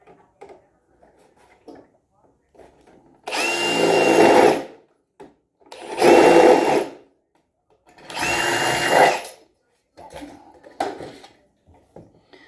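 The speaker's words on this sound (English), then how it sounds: "I'm going to drill right basically on the same hole." An electric drill runs in three separate bursts of about a second and a half each, loud and close, drilling back into the same hole, with quiet talk and small handling noises in the gaps.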